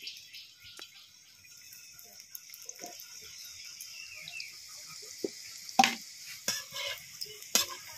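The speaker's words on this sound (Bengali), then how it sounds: "তেলটা গরম হয়ে গেছে, বলগুলো তেলের মধ্যে ছেড়ে দেব।" Semolina balls drop into hot oil, setting off a soft hissing fry broken by scattered crackles and a few sharper pops, fairly quiet and close.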